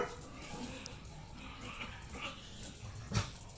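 Dogs playing nearby in a garden, giving faint whimpers and yips at a low level, with one brief louder yelp near the end.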